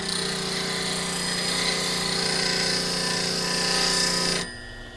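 Diamond parting tool held square against a spinning grinding wheel, giving a continuous harsh, high grinding whine close up that cuts off abruptly near the end, leaving a fainter motor hum.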